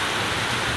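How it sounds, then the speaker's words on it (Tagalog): Heavy rain falls in a dense, steady roar of broadband hiss, close and loud, with no break across the short stretch. "Lakas ng ulan guys."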